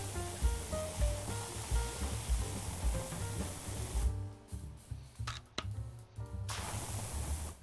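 A pressure washer sprays soap in the video game Powerwash Simulator 2, a steady loud hiss of water that keeps going and drops out briefly in short breaks near the end.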